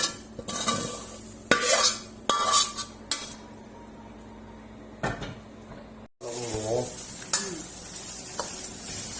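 Chili and garlic pounded in a mortar and pestle in a home kitchen while making Thai stir-fried basil pork, heard as a handful of sharp, irregular thuds up close, followed by a steadier clattering hiss.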